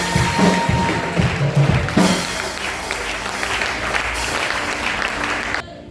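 A church congregation applauding during a service, with loud, sustained clapping across the whole stretch that ends abruptly near the close, and a voice speaking briefly at the beginning.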